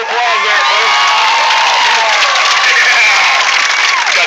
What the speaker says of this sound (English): give him a round of applause there, folks